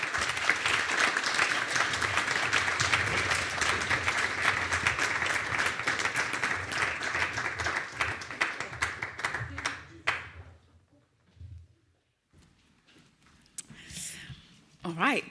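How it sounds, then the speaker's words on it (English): Audience applause at a responsible-investment conference, a long stretch of dense clapping that holds strong for about ten seconds, then thins to scattered claps and quiet, with faint voices and murmurs near the end. "I'd like you to give them a round of applause"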